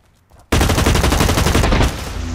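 Sustained burst of automatic gunfire from the first-person shooter Blacklight Retribution, erupting abruptly after a brief quiet moment and rattling on loud and dense, easing slightly toward the end.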